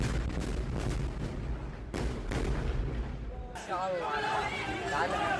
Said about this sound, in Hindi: देखिए खान यूनिस में जो धमाके हो रहे हैं उसकी तस्वीरें आपके सामने।